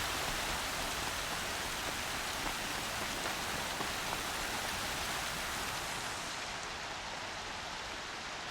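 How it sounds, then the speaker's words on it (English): Steady rain pours down in Horizon Zero Dawn, a dense, even hiss of falling water that holds constant throughout with no voices. "Is this pole, like, shielding me from the rain?"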